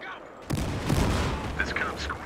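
FAL rifle fired in single-shot mode in Battlefield Hardline, a sharp close report followed by ongoing crackling gunfire and distant shots, with a voice over it.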